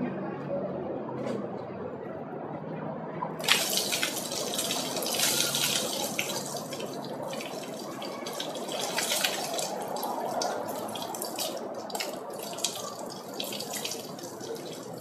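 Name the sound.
water rinsing baking soda out of hair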